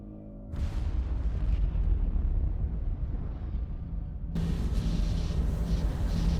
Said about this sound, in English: Piece of Eden detonated and took the lab with it.